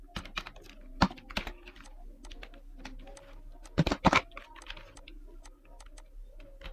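Keys clacking on a computer keyboard while a company name is entered into a spreadsheet, steady close taps with a few louder strikes, no voices.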